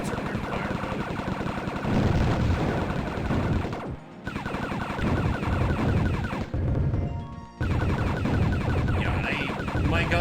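Spaceship guns fire in a video game space battle, with rapid, sustained machine-gun-style bursts and crashing hits that continue almost nonstop, cutting out briefly twice. Faint talking sits underneath.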